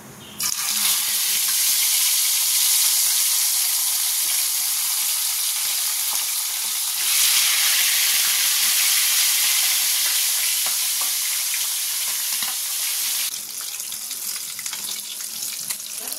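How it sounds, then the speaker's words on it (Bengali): Fish pieces frying in hot oil in a home kitchen, a dense, steady sizzle that swells louder midway and eases near the end, close and continuous with no talk. "চলো মাছগুলো সব ভাজা হয়ে গেছে, তুলে নিয়ে মাছের ঝালটা করে নেব।"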